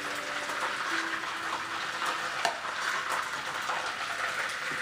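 Pepper steak fries in very hot oil with a steady, dense sizzle and crackle, fairly close and unbroken, with no talking.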